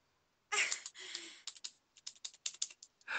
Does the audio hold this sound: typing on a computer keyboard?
yes